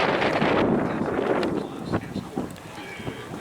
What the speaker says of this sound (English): You can hear the wind.